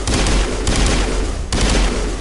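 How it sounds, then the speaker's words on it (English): Sustained video-game gunfire from Mass Effect, a dense, loud, unbroken barrage of rapid shots that fills the whole moment with only a brief stutter midway. "Why are we shooting?"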